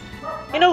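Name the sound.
dogs barking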